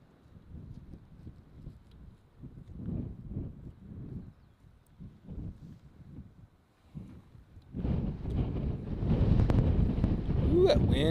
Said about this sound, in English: Ooh, that wind just kicked up again.